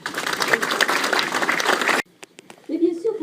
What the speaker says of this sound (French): Moi, je crois que vous pouvez applaudir quand même.